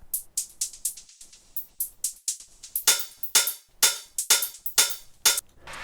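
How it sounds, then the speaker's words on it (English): Crisp, bright electronic hi-hat ticks from an Ableton Operator synth repeating in a busy tech house groove, short noisy bursts with a few longer open hits, alone. "And then I have this little operator hi-hat."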